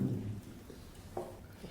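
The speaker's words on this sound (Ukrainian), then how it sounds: "У темнім небі народилася дощ, грім і блискавка" Thunderstorm with rain on a hot August night: a low rumble of thunder opens loud and fades into a steady wash of rain, with a brief swell near the end.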